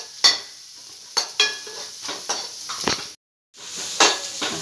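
Quick sautéing in an oiled pan on the stove while making kara paniyaram: a run of close spatula scrapes and taps over a light sizzle, a short silent gap, then more stirring, with no talking.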